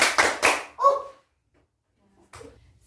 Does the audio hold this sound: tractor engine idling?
no